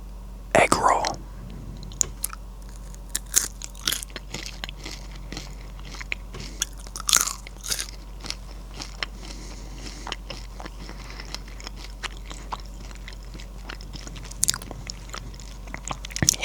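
Crisp bites and chewing of an air-fried Thai snack, close and sharp, with irregular crackly crunches and soft whispering in between.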